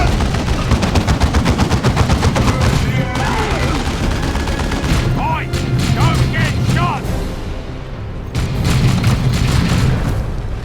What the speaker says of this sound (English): Our heavy bolters are deadly, but they take time to set up and have a limited field of fire.